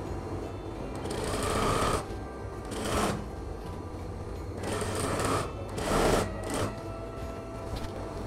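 A sewing machine stitches a Muslim women's dress, running in several loud, close bursts of rapid mechanical whirring separated by brief pauses, with no talk.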